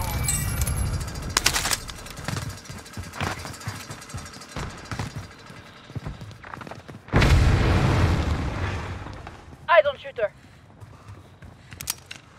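Gunfire and booming blasts in Warzone on Rebirth Island, scattered bursts and impacts with a loud stretch of heavy fire midway, mixed with footsteps and game noise; a voice speaks at times.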